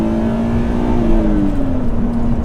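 A BMW Z3 M Coupé with 321 hp and a quadruple exhaust gives a loud, close engine drone with a metallic edge. Its pitch eases gradually downward across a few seconds, with no talk over it.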